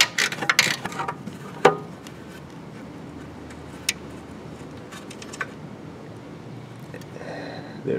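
A ratchet or wrench works an 8mm nut off a stud holding the plastic cap on a Ford Focus alternator, giving quiet clustered clicks and mechanical ticks early on, then sparse faint clicks over a low background.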